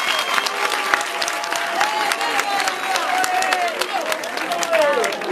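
A crowd at a prison visit by the justice minister applauds loudly and steadily, dense clapping mixed with voices and a rising, sliding vocal cry or whistle over the top.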